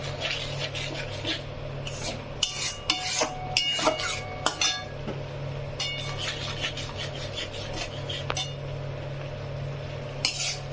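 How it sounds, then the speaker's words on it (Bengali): Prawn malai curry masala being sautéed in a pan, with a steady scraping and stirring of a utensil against the metal and intermittent clinks over a continuous low cooking hum. "যতক্ষণ না এটা তেল ছাড়বে ততক্ষণ আমি কষিয়েই যাব"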